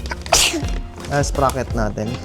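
A single sharp sneeze bursts out close by, followed by people talking.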